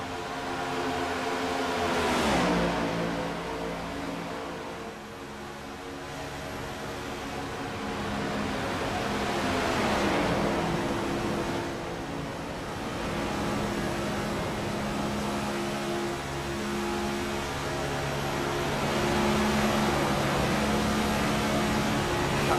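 A NASCAR Next Gen car at full throttle at Atlanta Motor Speedway in iRacing. The engine drones steadily and loudly, with slow swells in pitch that rise and fall several times and no lift off the throttle.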